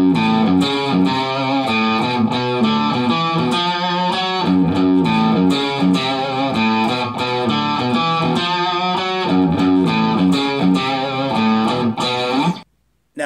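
A distorted electric guitar plays a repeating riff, loud and steady, with chugging rhythmic notes looping for about twelve seconds before cutting off.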